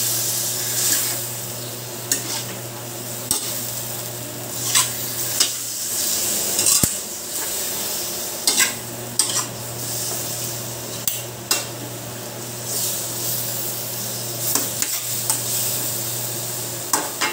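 Pork belly hamonado frying in a pan, a steady close sizzle with a low hum, punctuated by repeated clinks and scrapes of a utensil stirring against the pan throughout, no voices.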